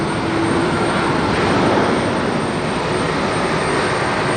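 A Shuttle America jet airliner takes off at LaGuardia airport in a rainstorm, its engines giving a loud, sustained roar that holds steady from start to finish.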